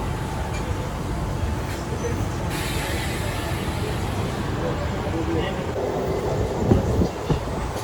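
A Mumbai suburban local train on the Central Line rumbles steadily past at close range at night, a continuous rolling roar with faint rattling and a few louder knocks near the end.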